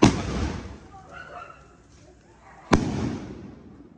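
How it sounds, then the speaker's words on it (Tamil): A loud burst opens, fading into a hiss, followed by a second sharp bang that decays with crackling; an aerial Sivakasi firework going up and exploding close by outdoors. "இது மேல போய் வெடிக்கிறது"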